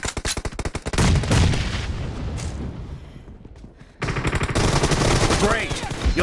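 Rapid automatic gunfire in the mobile battle royale game PUBG Mobile, loud, dense bursts of shots with heavy booming impacts, a brief lull, then another sustained stretch of firing.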